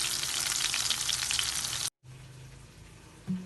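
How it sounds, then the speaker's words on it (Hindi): Masala-coated fish frying in hot oil in a home kitchen, a steady loud sizzle that cuts out for a moment, then returns quieter with a brief burst of spatter near the end. "और बाकी की भी इसी तरह फ्राई कर लेंगे।"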